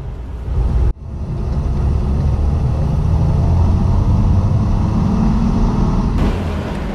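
A Triumph 2500 MK I car drives around the block, its engine giving a loud, steady low rumble from inside the cabin that dips briefly near the start and then holds evenly throughout.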